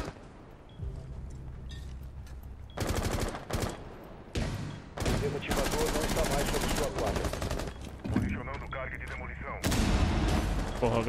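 Repeated bursts of gunfire in the video game Rainbow Six Siege crack out in clusters, some rapid and machine-gun-like, loud against a quieter background with a voice talking at times.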